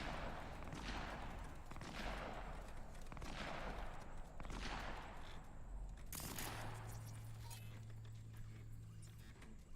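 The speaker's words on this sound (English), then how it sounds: "The hell is the gunfire going on in the background?" Bursts of distant gunfire crackle in repeated volleys in the video game Cyberpunk, steady and fairly faint, with a low hum settling in toward the end.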